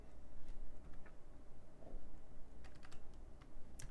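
Quick keystrokes on a computer keyboard, including the F2 key, clatter in a dense irregular rhythm, close and fairly loud over a noisy background, with no talking.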